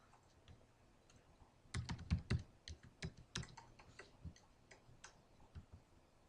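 Someone types a server address on a computer keyboard, giving a quiet, irregular run of sharp key clicks over faint background hiss, with no speech.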